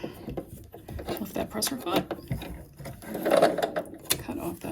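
Sewing machine running a zigzag stitch, a close rapid mechanical chatter in short bursts, with a voice talking over it.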